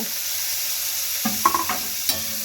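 Boiled banana blossom goes into a kadai of hot oil tempered with nigella seeds and dried chilli, a soft sizzle broken by a few quick spatula scrapes and clinks.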